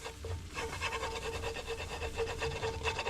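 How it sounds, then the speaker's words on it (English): Whisk scraping and stirring flour into a large batch of roux for Thanksgiving gravy, a steady rhythmic rasping close up with no talk. "We're gonna spread the flour out and we're gonna make a roux."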